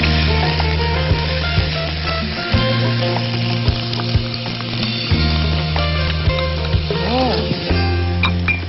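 Onions and garlic fry in a pan with a loud, steady sizzle, punctuated by repeated scraping and stirring knocks of a utensil against the pan.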